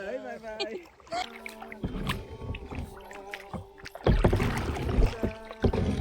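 Kayak paddling on a lake in Poland, with paddle strokes dipping and splashing close by and water sloshing against the hull, mixed with people talking and singing.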